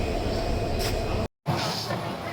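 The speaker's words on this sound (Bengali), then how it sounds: "আমাদের ট্রেনটি চলা শুরু করলো ঠিক 12:30টায়" Cox's Bazar Express passenger train running with a steady, loud rolling rumble and rattle, broken by a brief dropout into silence before the rumble resumes.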